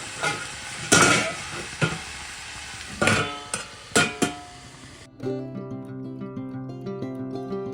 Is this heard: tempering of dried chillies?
yes